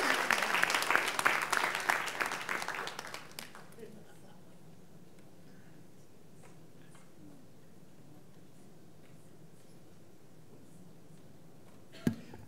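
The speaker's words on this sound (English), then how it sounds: "Give him a round of applause for that question." Dense, loud audience applause fills the first few seconds, then dies away abruptly into a quiet room with faint background noise and one brief sharp knock near the end.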